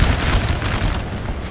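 Artillery booms roll across a Napoleonic battlefield in the Napoleon Total War multiplayer game, loud overlapping cannon blasts and rumbling impacts with no voices over them.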